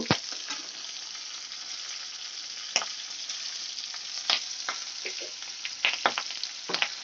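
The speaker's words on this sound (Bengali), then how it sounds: "কাঁচা লঙ্কাটা আমি একটু ভেজে নেব।" Split green chilies fry in hot oil for a Bengali boal fish curry, giving a steady bright sizzle with occasional sharper pops and spatters across the whole stretch.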